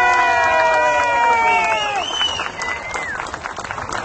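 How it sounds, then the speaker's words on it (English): A crowd at an outdoor rally in Albany claps and cheers for volunteers. Whistles and shouts rise over the clapping at first, then the noise thins into scattered claps toward the end. "please give them a round of applause"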